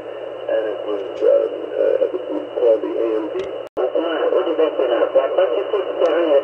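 Shortwave broadcast at 15.121 MHz received through an RTL2832 SDR dongle with upconverter: narrow-band, tinny voice-like audio over static, steady with one brief dropout near the middle.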